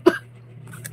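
A single short, sharp cough right at the start, followed by quiet background hum and a faint breathy sound.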